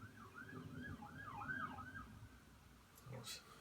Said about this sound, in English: I don't know if it was a police car or ambulance or what just went by